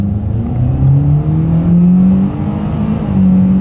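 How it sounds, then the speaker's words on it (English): Naturally aspirated engine of a 2024 Hyundai Kona accelerating hard, a loud rising drone heard from inside the car with a gear shift midway, then climbing again. "let's see how quickly now this Kona, this naturally aspirated engine here, is going to get us up to speed."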